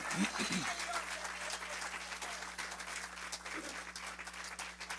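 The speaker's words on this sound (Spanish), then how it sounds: "Denle fuerte aplauso a Dios, por favor" Church congregation applauding for God during a Spanish-language sermon, a steady broad wash of clapping throughout with a brief voice at the very start, while a low steady hum runs underneath.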